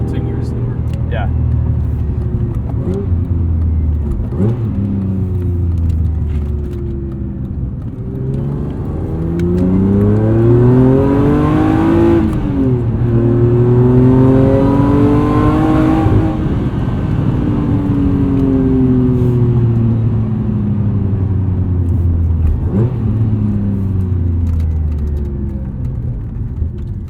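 A supercharged 1998 E36 BMW M3 accelerates hard on the road, its engine note and supercharger whine climbing through the gears in long rising sweeps that drop back at each shift, loud and steady throughout.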